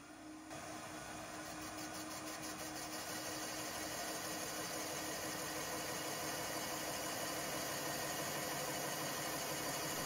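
Valve seat cutter grinding hardened seats in a 7.3 Powerstroke cylinder head, a steady continuous whirring hiss throughout with no speech.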